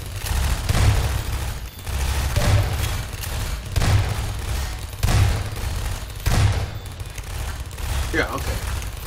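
Shotgun blasts in the game Half-Life 2 Episode Two, about five heavy booming shots at a steady interval of roughly one and a quarter seconds, loud and close over a constant noisy combat background.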